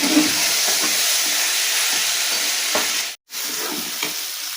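Potatoes, onion and peas frying with spices in a pan, giving a steady close sizzle with occasional stirring scrapes and a brief dropout near the end.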